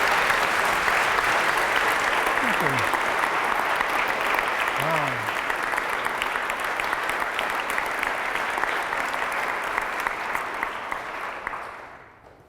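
An Oxford Union audience applauding to welcome a guest, a sustained loud round of clapping that slowly tapers and dies away at the end, with someone briefly speaking over it.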